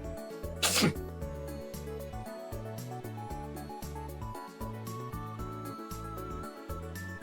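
A single sharp sneeze bursts out near the start, loud and close, over steady background music that continues to the end.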